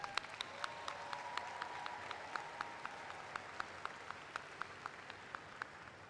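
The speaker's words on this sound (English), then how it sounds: "And now for all of our commended students, a big round of applause." Applause for commended students at a 2024 college commencement ceremony, with sparse, distinct hand claps ringing out steadily over a soft, distant crowd wash for several seconds.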